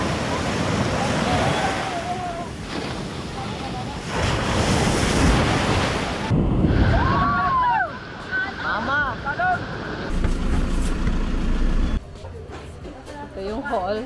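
High surf pounds a beach in Zambales during stormy weather, with loud, rolling crashes of waves and heavy wind buffeting the microphone throughout.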